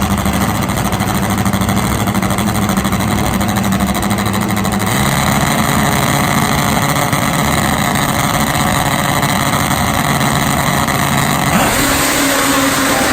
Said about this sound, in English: Oh, blast off side by side.